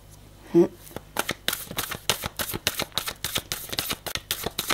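Tarot cards being shuffled in a rapid run of crisp riffling flicks and slaps, close and fairly loud, after a single soft thump at the start.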